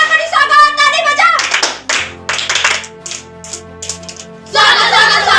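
A large group of girls claps in welcome at a birthday gathering, loud bursts of rhythmic clapping alternating with singing and chanting voices, the clapping returning strongly at the end.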